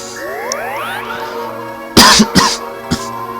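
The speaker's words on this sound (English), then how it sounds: "whenever I start recording, my throat just acts up and I start coughing" Someone coughs and clears their throat while recording a Fire Emblem: The Sacred Stones playthrough, a few sharp close bursts over a quiet tonal game backdrop with rising chime-like notes.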